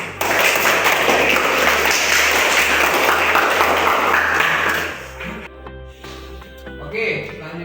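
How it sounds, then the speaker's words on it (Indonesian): Classmates give a student steady applause in a classroom, dense clapping that carries for several seconds and then thins out and fades. "Tepuk tangan nih buat Putri."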